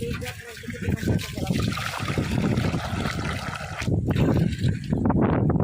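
Steady rushing of tap water pouring out after a pump motor is switched on, continuous and fairly close, with a voice talking over it.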